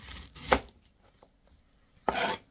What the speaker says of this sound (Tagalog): maggayat muna tayo ng sibuyas